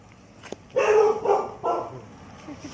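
A dog barks a few times in a short burst, fairly close, after a quiet moment with a faint click.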